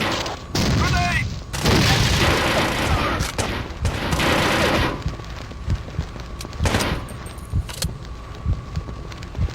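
Grenade blast and bursts of gunfire in the Rainbow Six 3 tactical shooter on Nintendo GameCube: a loud, sustained roar of explosion and rapid fire early on, then scattered shots and impacts trailing off.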